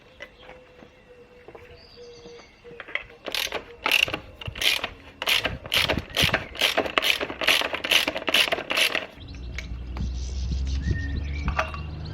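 A ratcheting wrench works on a pit bike's rear wheel during a sprocket change, with a rapid run of loud, close clicking strokes followed by a low steady hum.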